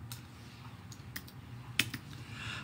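Typing on a computer keyboard, a few scattered key clicks and taps at irregular intervals over a low background hum, close by and fairly quiet.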